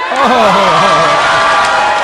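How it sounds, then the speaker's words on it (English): A crowd at a political speech cheering and shouting, a dense sustained roar of many voices with a whoop rising above, loud and close throughout. "And they cheering"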